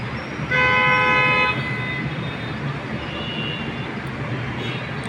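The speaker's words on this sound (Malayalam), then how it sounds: "എല്ലാവരും ഹോൺ അടിച്ചുകൊണ്ടിരിക്കുക കേട്ടോ" A vehicle horn blares in a sustained toot of about one second over a low rumble of street traffic, followed by fainter distant horn tones.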